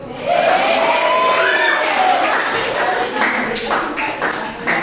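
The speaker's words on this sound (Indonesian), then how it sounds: "Tepuk tangan." A classroom of schoolchildren clapping together at a teacher's prompt: a dense, steady burst of applause that rises quickly and holds for several seconds, with some shouts mixed in.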